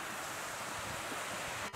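A swollen river at Radnor rushing with lots of water on a cold day, producing a steady, broad roar of flowing water close by with wind noise on the microphone.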